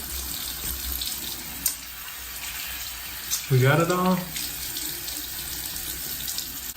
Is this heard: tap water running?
yes